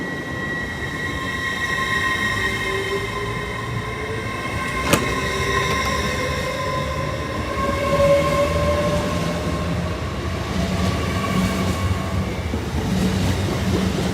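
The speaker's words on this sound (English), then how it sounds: "there's the 1247 LNER service from Edinburgh to London King's Cross" The 12:47 LNER service from Edinburgh to London King's Cross passes close by, a sustained rail rumble with tonal whines and squeals rising and falling, and a sharp click midway before the sound slowly fades.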